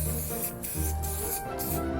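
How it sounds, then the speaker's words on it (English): A spray paint can sprays for spray paint art, giving a close, airy hiss broken into short bursts by brief gaps. "I'm just gonna pull away a little bit and spray a little harder, a little faster."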